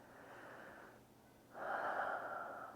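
A slow, deep breath during a yoga chest and shoulder stretch: a soft, faint inhale, a short pause, then a louder, longer airy exhale, close and alone.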